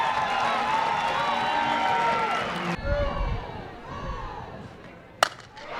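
A softball crowd at an Auburn vs Tennessee game cheers and roars through the first half, then drops off abruptly to murmuring and scattered noise with a sharp knock near the end.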